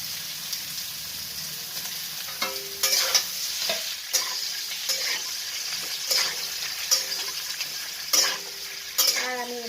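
Potatoes and coconut shavings fry in a pan with a soft, steady sizzle, punctuated by repeated scraping strokes of a spatula against the pan as they are stirred, close up with no talking.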